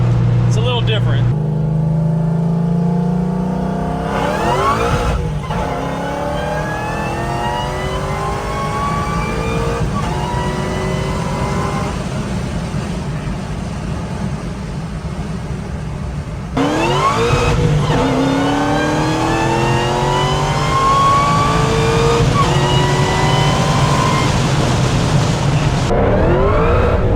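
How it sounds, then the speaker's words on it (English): A 1967 Shelby GT500 resto-mod with a supercharged 5.4-litre GT500 swap cruises in sixth gear around 70 mph, its engine droning loud and steady with rising whine sweeps through two surges of acceleration, with talk over it. "It's an old car, but it's a little different."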